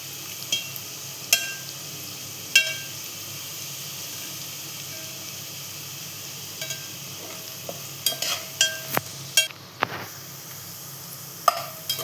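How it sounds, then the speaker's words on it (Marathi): Onion fries in a pan for tandoori biryani, a low continuous sizzle with scattered sharp clinks and scrapes of a spoon stirring, louder toward the end, with no voices. "आता आपण इथे कांदा भाजून घेऊया, फ्राय करून घेतोय."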